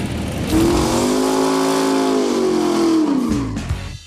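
Hand-built hot rod cars racing on a drag strip at a hot rod gathering, with a loud engine roar that revs and holds a steady pitch for a few seconds before cutting off near the end.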